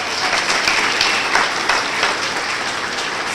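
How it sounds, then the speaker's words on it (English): A large audience at an ASU scholars event claps steadily, a dense broadband patter that holds even and loud for the whole stretch with no voices. "give her another round of applause, please."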